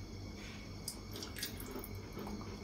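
Water is poured into a hot pot of butter while making Anzac biscuits. It gives a faint, close trickling and splashing with light crackles over a soft steady hiss, and no one speaks.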